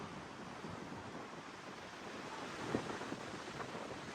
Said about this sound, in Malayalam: നല്ല കാറ്റുണ്ടാവും